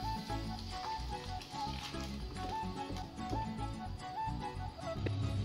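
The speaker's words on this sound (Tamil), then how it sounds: "1 கொத்து கருவேப்பிலை, 4-5 வரமிளகாய், 1/2 டீஸ்பூன் பெருங்காயத்தூள் எல்லாம் சேர்த்து நல்லா வதக்கி விட்டுருங்க." Curry leaves, dried red chillies and asafoetida sizzle in hot oil for a South Indian curd vada tempering, a steady close crackling hiss under a faint repeating musical tone.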